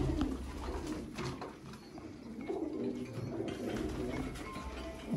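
Red-eyed breeder pigeons coo softly in low, throaty bursts over a steady outdoor rooftop background, with a few faint chirps mixed in.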